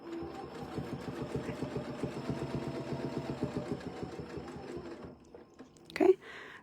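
A sewing machine stitches crosshatch quilting in a steady, rapid run of close mechanical clatter that stops near the end, followed by a brief louder bump.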